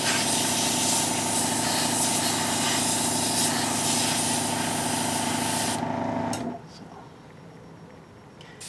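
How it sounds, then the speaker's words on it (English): An airbrush spraying paint onto a Galactica scale model, a loud, steady, close hiss with a faint hum that runs for about six seconds and then cuts off sharply into quiet. "sometimes just make sure your airbrush is still, you know, putting out what you want it to"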